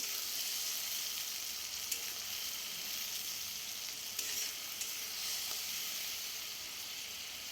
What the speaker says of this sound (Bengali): এরপরে আমি মশলাটা একটু কষাতে থাকবো।